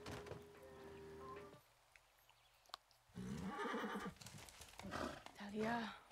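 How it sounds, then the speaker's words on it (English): A zebra in Far Cry 6, really a horse with painted stripes, gives a loud whinnying neigh, with hoof clatter and other game sounds around it and a voice talking over part of the stretch. "Look, it's Anton's fucking zebra. That's a horse and some paint."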